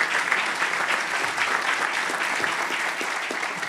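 A church congregation gives Jesus a loud round of applause, dense sustained clapping from many hands filling the room steadily from start to finish.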